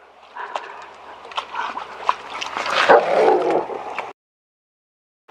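A 2.5-year-old German Shepherd that reacts to dogs and people barks over and over, loud and close, in rough bursts that grow more intense before cutting off suddenly into silence.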